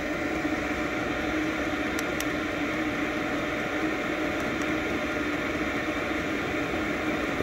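All-in-one 5kW diesel air heater running, a steady dense roar of fan and burner noise, loud and close, unchanging throughout with a couple of faint high ticks.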